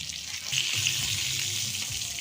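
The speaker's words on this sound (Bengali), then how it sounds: "পটলগুলো আমার খুব ভালো করে লাল লাল করে ভাজা হয়ে গেছে" Pointed gourd (potol) pieces fry in hot oil, giving a steady close-up sizzle and crackle with a soft bubbling undertone that holds throughout.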